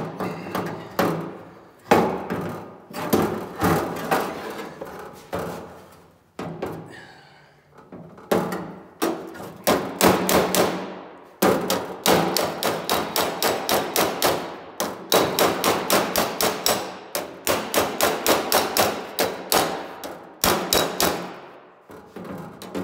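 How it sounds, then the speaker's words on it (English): Rapid bursts of sharp metallic hammer strikes on a dolly, planishing a sheet metal door skin patch panel, in quick repeated runs separated by brief pauses, close and loud. "I'm just focused on hitting that when it's hammer on dolly"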